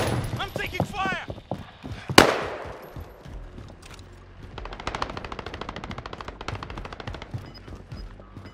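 Rapid automatic gunfire from Call of Duty: Modern Warfare Warzone: a dense burst of shots with a loud sharp crack near the start, then sustained fast rattling fire for several seconds, with voices talking over parts of it.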